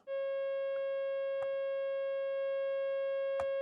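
A steady pure electronic test tone with a few harmonics hums continuously, broken by three faint clicks, with no voices.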